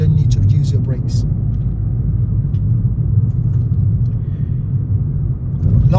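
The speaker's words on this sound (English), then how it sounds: "so you can let the engine just do braking for you" A car's engine braking slows it along a rural road near Swindon, a heavy steady in-cabin rumble that continues throughout, while someone talks over it at times.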